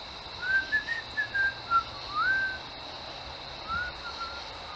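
A person whistling inside an old house during a ghost hunt, a quick string of short, bright, rising and falling notes, then a pause and two softer whistles, heard alone over a quiet room hiss.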